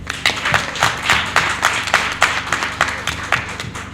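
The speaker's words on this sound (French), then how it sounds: "je voudrais qu'on vous applaudisse" An audience at a health campaign event in Benin claps for a group of women, a fairly close, loosely rhythmic patter of hands keeping a steady beat throughout.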